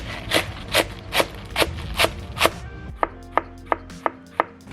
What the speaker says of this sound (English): Make some nice thin julienne.